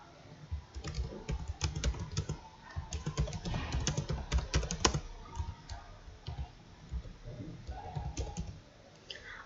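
Rapid, irregular clacking of keys as a comment is typed on a computer keyboard, close and clear, with brief pauses between bursts and no talking.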